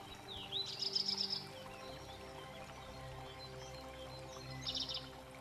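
Soft outdoor ambience with two short bursts of high, rapid bird chirps, one early and one near the end, over a steady low hum.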